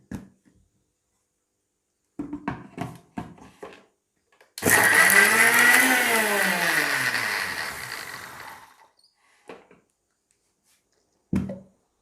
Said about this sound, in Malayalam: കുറച്ച് വെള്ളം ഒഴിച്ചിട്ട് മിക്സിയിലിട്ട് അടിച്ചെടുക്കാം.